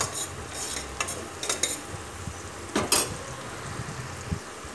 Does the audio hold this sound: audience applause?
no